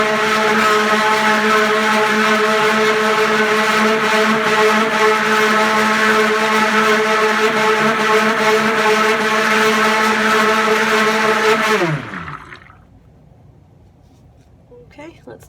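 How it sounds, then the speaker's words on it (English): A stick blender whirs steadily as it mixes cold process soap batter of poured oils, a loud continuous motor hum with strong harmonics that runs for about twelve seconds, then winds down and stops, leaving near silence. "And then we'll give it a good mix with my stick blender"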